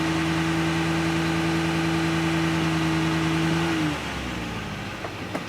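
A 2024 Duramax diesel truck engine runs during a transmission flush, holding a loud, steady elevated drone with a clear tonal hum until the revs drop near the end into a lower idle.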